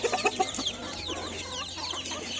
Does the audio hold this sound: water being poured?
no